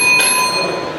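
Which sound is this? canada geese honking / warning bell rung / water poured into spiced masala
warning bell rung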